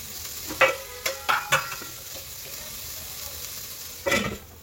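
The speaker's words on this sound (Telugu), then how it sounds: "కొంచెం ఫ్రై అయ్యాక కొంచెం మూత పెడదాం" Food fries in a pan, with a handful of sharp scraping stirs over a low, steady sizzle, close and fairly loud, no voices.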